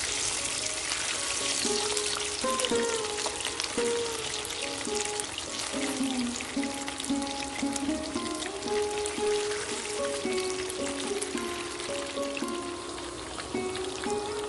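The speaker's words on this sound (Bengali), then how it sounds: "এবার উল্টো পিঠটাও কড়া করে ভেজে নিচ্ছি" Katla fish pieces frying crisp on their second side in hot oil in a pan, a continuous close crackle and spatter that holds steady over several seconds beneath soft background music.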